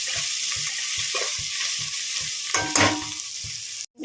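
Tomato and turmeric frying in a pan with a constant sizzle, punctuated by regular rhythmic spoon strokes against the pan and a brief louder clatter near the end.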